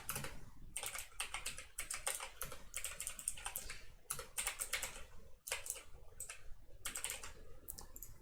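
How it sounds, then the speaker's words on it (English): Typing on a computer keyboard as random float values are entered line by line, a steady run of close, rapid key clicks in bursts with brief pauses, alone without talk. "I'm just going to type some random float values, each on a new line, and we'll just do 10 of them"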